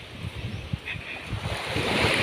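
Surf washing onto a beach at Cambalo, Cajidiocan, Sibuyan, with strong wind buffeting the microphone, a continuous roar that swells louder toward the end.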